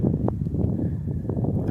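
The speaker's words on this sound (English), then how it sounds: "And I apologize for the wind." A steady, low rumble of wind buffeting the microphone on a cliffside, continuous throughout with no other clear sounds.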